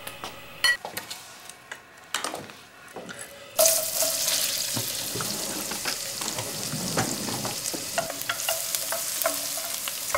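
A flat wooden spoon works risotto rice in a pan. A few scattered knocks come first, then a steady bright sizzle with scraping stirs carries on to the end.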